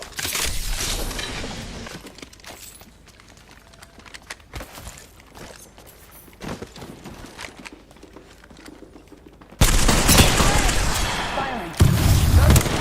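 Apex Legends gunfire comes in dense, loud bursts for the first two seconds, then drops to scattered quieter shots and clatter, and returns as a sustained heavy barrage over the final three seconds.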